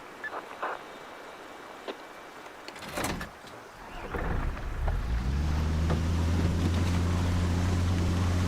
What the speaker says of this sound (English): All right, we're gonna drive the boat.